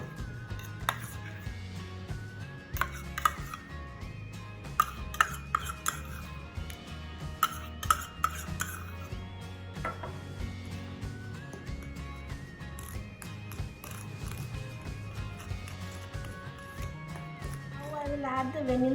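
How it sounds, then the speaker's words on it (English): Butter and sugar creamed together in a bowl for shortbread cookies make irregular clinks and taps against the bowl, scattered at a steady working pace over a faint tonal background. "First, we are going to cream butter and sugar together."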